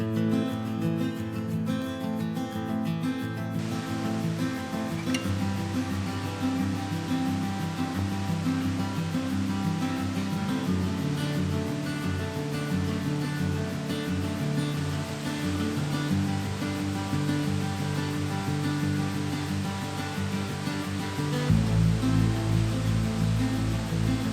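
Nandroya Falls tucked into a small canyon, a waterfall roaring as a dense, continuous wash of rushing water, loud and close, with music layered over it throughout.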